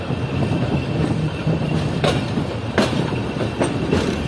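Train rolling along the ML-2 line between Rohri and Kotri near Ayub Bridge, a loud steady rumble of wheels on track with a few sharp clacks over rail joints, close and without talk.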